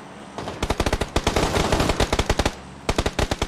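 Automatic gunfire in the PUBG video game, rapid loud bursts of shots in quick succession, pausing briefly before another short burst.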